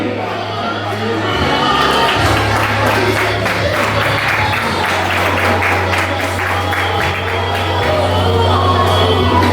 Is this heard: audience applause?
yes